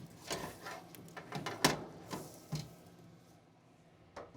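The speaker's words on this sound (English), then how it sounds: "Open the lid, and the turkey just slides right off." A smoker lid opens and a whole turkey slides onto the grate, giving a few soft, close clunks and a faint scrape in a quiet space.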